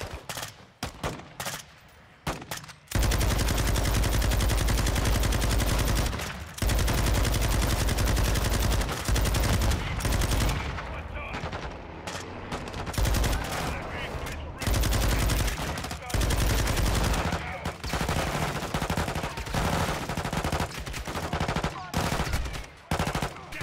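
Heavy gunfire in Call of Duty: Modern Warfare II during a prison break mission: dense machine-gun bursts and fusillades rattle almost continuously and loudly, with brief pauses.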